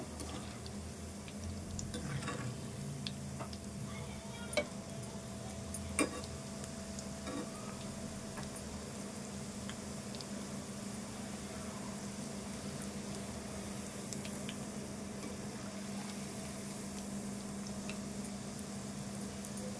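Ridge gourd pakoda frying in hot oil while being stirred, a steady low bubbling sizzle with occasional faint ticks and scrapes, fairly quiet and continuous, no voices.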